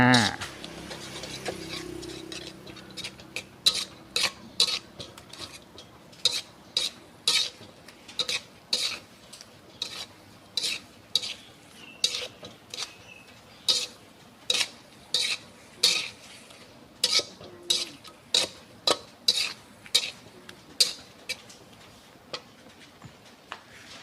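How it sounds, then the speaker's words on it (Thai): Instant noodles with canned fish stir-fried dry in a pan, a metal utensil scraping and tapping the pan in a steady rhythm of sharp clacks throughout, close and fairly loud, with a faint sizzle underneath. "ผัดให้แห้งเลยค่ะ"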